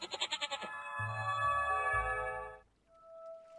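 A goat bleats in the point-and-click game Rusty Lake Paradise, a quick wavering run of bleats that then settles into a sustained tonal cry, ending on a faint lingering tone.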